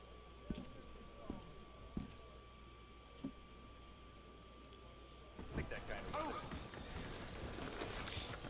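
Horse hooves in Red Dead Redemption 2 clip-clop in a few sparse, separate thuds, then give way to a busier, denser stretch of footfalls and movement, with a game soundscape underneath.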